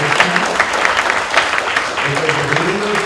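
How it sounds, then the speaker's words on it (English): Warm audience applause at a medical education conference on sleep and meditation, a dense, steady patter of clapping hands throughout, with a voice speaking over it. "a very warm applause to"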